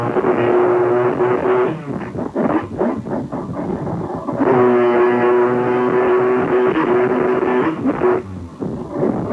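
A Kawasaki STX 1100 personal watercraft heard onboard while racing in St. Petersburg, Florida. Its engine gives a loud, steady high drone that dips for a couple of seconds between runs, with splashing and wind noise around it.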